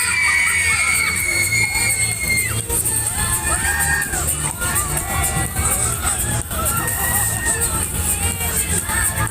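Riders on a Superstar thrill ride at a Pat Collins funfair in West Bromwich scream and shout continuously in a loud, dense crowd roar, with whoops and rising cries over the ride's machinery noise.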